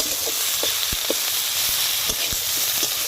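Steady oil sizzle and hiss from ginger and garlic frying in a pan, punctuated by scattered soft knocks of stirring, with no talking.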